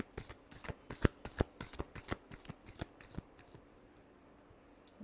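A deck of tarot cards being shuffled close by: a quick run of crisp riffling snaps and flutters for about three seconds, then fading to a few soft slides.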